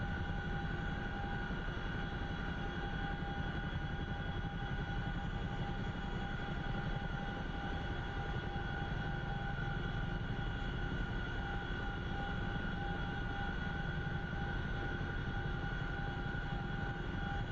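Steady distant roar of fast jets in a combat video game, a continuous broad engine drone with tonal whine, constant level throughout.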